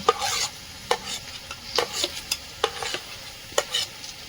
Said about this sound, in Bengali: সর্ষের তেল সব ভালোভাবে মিশিয়ে নেবো